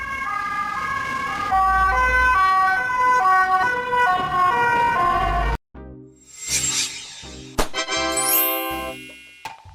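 Ambulance siren, from Swiss-style emergency vehicles such as Mercedes-Benz, Volkswagen or Peugeot, wailing in a steady stepped two-tone pattern up close, then cutting abruptly to a different, sharper siren sequence with rising sweeps.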